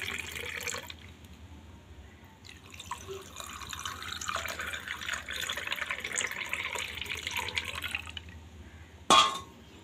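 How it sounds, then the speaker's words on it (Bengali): Homemade sour yogurt lassi pours into a glass with a soft, continuous liquid trickle and splash, faint and steady, ending in a brief sharper clink or splash near the end. "এবার লস্যিটা ঢেলে দিচ্ছি।"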